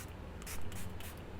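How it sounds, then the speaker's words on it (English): Gerard Cosmetics Slay All Day setting spray in the Cucumber shade misted onto a face in a few short, soft hissing spritzes, close and fairly quiet, with no talking. "We're going to take the Gerard Cosmetics Slay All Day setting spray."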